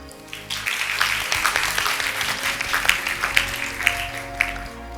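Audience applause for the judges at a Thai university youth competition event, steady clapping from a crowd filling a hall, sustained at a moderate level with a few sharper claps standing out.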